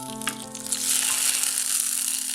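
A tempering of fried onions, broken dried chillies and curry leaves is poured into a Kerala onion curry, a brief crackle swelling into a steady close sizzle over a faint constant hum.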